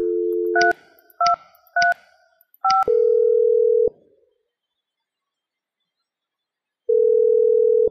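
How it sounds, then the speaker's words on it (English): Keypad dialing tones on a Mitel 5324 IP phone: four short, clear beeps in quick succession, then a longer steady tone, a pause of silence, and another sustained tone at the end. "Dial Maria's extension 3235."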